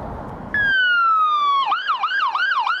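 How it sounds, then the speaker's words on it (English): An ambulance siren on Grant Road in Tucson rises in alone with a long descending wail, then switches to a rapid warbling yelp, loud and close throughout. "An ambulance on Grant kicked our decibel meter to about 100 decibels"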